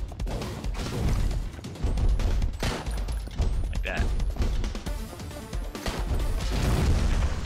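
Explosions and gunfire-like crashes in the video game Mr. Shifty, a dense, loud run of booms and impacts layered over game music, with a voice talking faintly underneath.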